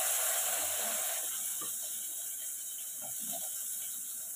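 Chopped onions hit hot oil for semiya upma, giving a steady broadband sizzle and hiss that holds evenly throughout, close and moderately loud.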